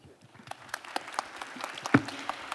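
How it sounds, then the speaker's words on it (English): A panel session's audience breaks into scattered clapping that builds slightly toward the end, moderately loud and somewhat distant, with a faint voice underneath. "Please give a big round of applause to our esteemed moderator and participants for sharing a insightful wisdom."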